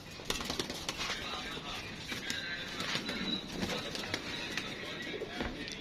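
Pigeons cooing at a pigeon fancier's loft, soft low coos and faint fluttering wings under quiet background noise, with a few brief sharp knocks; no clear talk.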